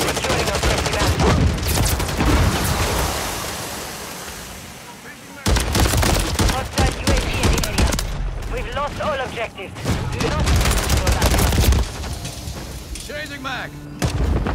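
Heavy gunfire in Call of Duty Modern Warfare 3 Moshpit, loud bursts of automatic shots and booming blasts that nearly fill the clip, with a short lull and game voice callouts mixed in.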